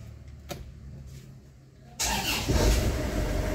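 An Isuzu Crosswind with low power and smoky running is started: a quiet stretch with a faint click, then the engine catches and settles into a loud, steady idle close by.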